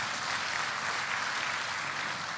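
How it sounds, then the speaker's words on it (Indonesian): A church congregation claps together in a steady, even wash of applause that fills the room for the whole stretch, with no voices rising above it. "Berikan tepuk tangan buat Tuhan."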